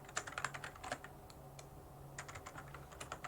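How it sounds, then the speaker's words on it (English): Touch typing on a computer keyboard while coding a simple Python calculator. Quick bursts of crisp, close key clicks come in uneven clusters, with a short pause in the middle and no voice. "so I'm going to try my touch typing skills here"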